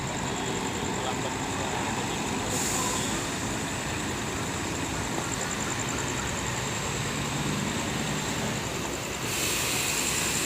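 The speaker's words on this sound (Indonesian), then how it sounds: "Jadi bus yang pertama berangkat adalah bus Intra SE 21, yang kedua Rapi Extronus, yang ketiga bus Halmahera" Intercity passenger buses on the Riau to North Sumatra route pull away from a crowded departure platform at a bus terminal. A steady, close diesel engine rumble drones evenly throughout, with no clear voices.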